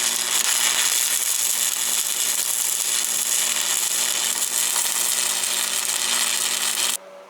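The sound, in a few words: Lincoln stick welder doing a short stitch weld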